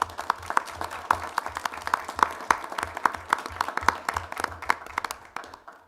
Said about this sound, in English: we can all applaud you, and the folks at home, please join me